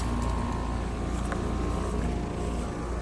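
A Trane XR heat pump runs in cool mode, giving a steady, loud mechanical drone with a low rumble that stays constant throughout.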